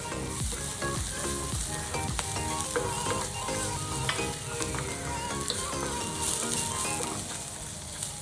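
Sliced onions sautéing with turmeric and asafoetida in a pan for kanda poha, a steady dense sizzle with scraping spatula strokes throughout, close and fairly loud with no talking.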